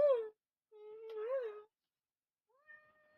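A pet cat meows several times near and clear, two drawn-out wavering cries followed after a pause by a softer, shorter one, with quiet in between.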